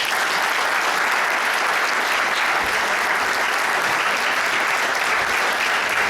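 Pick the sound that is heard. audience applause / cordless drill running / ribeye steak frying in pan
audience applause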